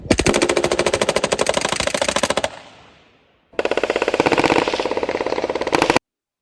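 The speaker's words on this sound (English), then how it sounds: "I'll throw up a clip now of my buddy shooting side by side, me with a suppressor and him without a suppressor." Rapid rifle gunfire with a suppressed and an unsuppressed rifle shooting side by side: a loud, dense rattle of shots for about two and a half seconds, a brief pause, then another sustained burst of fast, sharp reports.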